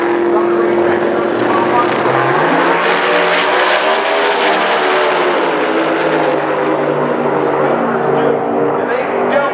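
A small-block race car engine, the old Darrell Hummer car, runs on a racetrack with a loud, sustained roar and shifting pitch, while a voice talks over it throughout.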